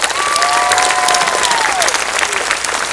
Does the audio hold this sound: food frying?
no